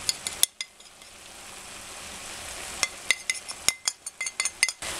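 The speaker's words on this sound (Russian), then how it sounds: "Хорошенько перемешиваем." Minced meat with spices sizzles quietly in a frying pan while a utensil scrapes and taps against the pan in irregular clusters of sharp clicks.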